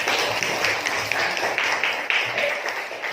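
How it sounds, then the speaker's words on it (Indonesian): Classmates in a classroom clap for a student, a steady patter of overlapping hand claps from a small group, fairly close, with a murmur of voices underneath throughout. "tepuk tangan Jainuddin"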